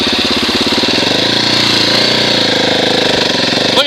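A 2017 Husqvarna 701 Enduro single-cylinder engine runs steadily and close up while the big bike climbs a steep rocky slope, a continuous throbbing drone throughout with a brief sharp noise at the very end.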